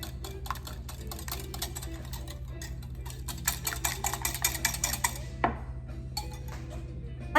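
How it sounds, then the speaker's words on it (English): Vegetable oil being whisked into banana pineapple cake batter, a quick run of light clicking and tapping strokes against a bowl, close and fairly soft, with a steady low hum beneath. "Whisk it a little bit more, just so that you could incorporate well together."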